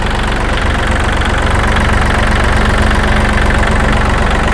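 A used 2019 Kubota L3218 tractor with about 800 hours runs its engine at a steady idle, a loud, even chugging rumble close by with no talk.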